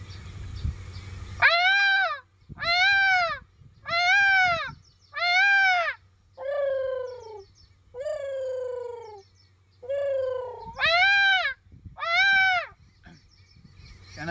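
A man imitates bird calls with his voice, giving a run of loud, harsh, evenly spaced caws like a crow, then several drawn-out wailing cries in the manner of a peacock, each call separated by short pauses.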